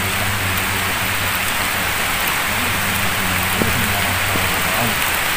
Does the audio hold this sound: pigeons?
no